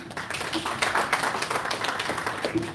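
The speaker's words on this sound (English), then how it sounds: "Let's clap for her." An audience claps for a woman called to the stage at a live event, with a dense, continuous patter of hands held at an even level throughout.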